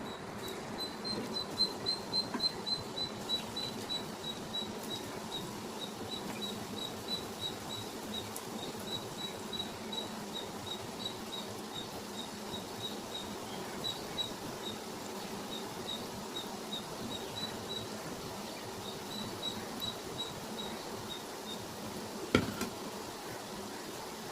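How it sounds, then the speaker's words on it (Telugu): Small gulab jamun dough balls fry in hot oil, giving a steady, faint crackling sizzle with tiny pops that carries on evenly throughout. "ఇలా చిన్న చిన్న బాల్స్ చేసాం కదా, ఇవన్నీ నూనెలో వదిలేదు"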